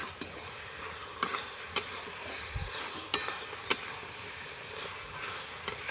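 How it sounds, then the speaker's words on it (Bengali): Jujube berries boiling down in jaggery water while being stirred, a faint low simmer broken by about six sharp scrapes or taps of a utensil against the pot at uneven intervals, with no talking. "এইভাবে নাড়াচাড়া করে করে কুলগুলো ভালো করে সেদ্ধ করে নেব।"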